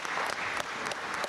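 Audience applause at a city council meeting, a brief burst of dense, moderately loud clapping from a seated crowd filling the room.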